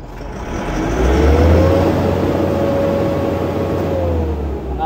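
Truck engine held at raised RPM during a diagnostic check, a loud steady close drone that swells slightly early on and then holds constant throughout.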